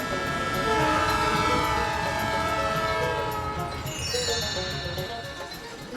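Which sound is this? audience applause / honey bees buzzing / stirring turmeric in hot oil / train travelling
train travelling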